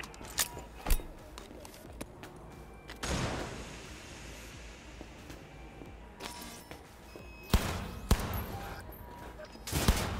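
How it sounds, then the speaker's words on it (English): Gunfire in the video game Cyberpunk, with several sharp broadband shots spaced irregularly, two clustered early, a loud burst near the end, over a dense game backdrop. "Keep firing, goddammit!"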